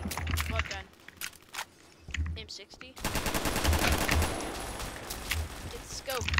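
Automatic gunfire from an M60 in the video game Phantom Forces, with rapid bursts of shots in quick succession that are loud and close, broken by short pauses while players talk over the shooting.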